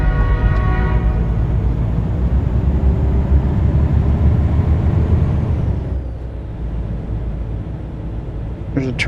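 A train in the game American Truck Simulator rumbles past with a loud, sustained horn blast early on, its heavy rolling drone filling most of the clip before dropping away, with a faint squeal near the end.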